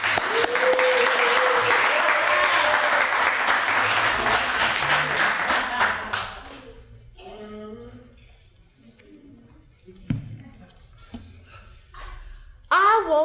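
Audience applause for a poet at a 1998 poetry reading in Bayview, a full room clapping loudly for about six seconds before it thins out into scattered claps, murmurs and faint room noise.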